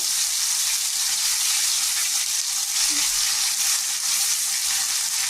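Chopped onion frying with ginger garlic paste in a pan for dhaba-style palak paneer, a dense, even sizzle that holds steady throughout, close and loud, with no distinct stirring strokes or voices.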